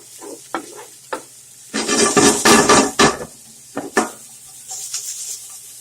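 Chopped tomatoes are stirred into scrambled tofu with onions in a frying pan, giving a loud burst of sizzling and scraping spoon strokes against the pan, then quieter clinks and stirring.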